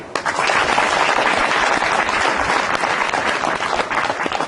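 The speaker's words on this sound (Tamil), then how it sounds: "கைத்தட்டே." Loud, steady applause from a large audience at a Bhagavad Gita discourse fills the whole stretch, dense clapping without pause.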